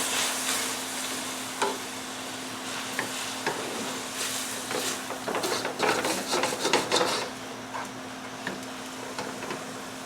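A spoon scrapes and stirs beef stroganoff in a pan, with rhythmic scraping strokes over a soft constant sizzle.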